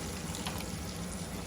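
About 1.5 litres of water is poured into a cooking pot to be boiled for chicken biryani. It makes a brief, steady, rushing splash heard close up, with no voices.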